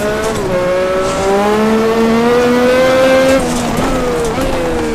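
A Formula One car in a racing video game at Adelaide, its engine screaming steadily and climbing in pitch through the gears with a brief shift dip, wheel spin adding a rough edge, loud and continuous.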